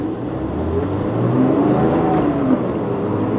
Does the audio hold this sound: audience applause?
no